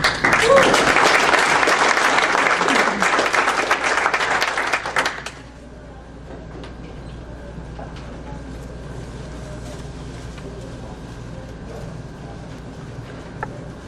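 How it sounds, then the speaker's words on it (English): A seminar audience gives a round of applause, a loud dense burst of clapping for about five seconds that stops abruptly, leaving a quiet room hum with faint movement and scattered small noises. "let's give them a round of applause"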